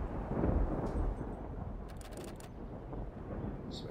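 Low rumbling thunder from a dry thunderstorm in the zombie survival game Project Zomboid, a loud continuous roll that swells early and then holds steady, with faint higher crackles scattered through it.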